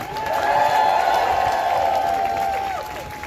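A crowd at an outdoor tax-the-rich protest in London gives a big sustained cheer with applause and whoops, steady and loud for a few seconds before tapering off.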